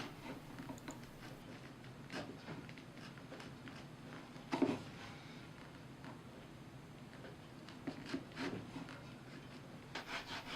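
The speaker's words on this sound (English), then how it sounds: "I very carefully and painstakingly chisel out the inside of both halves" A chisel works steadily on the wooden halves of a whisk handle, hollowing out their insides with close, quiet rubbing and scraping strokes, with a few sharper knocks and no speech.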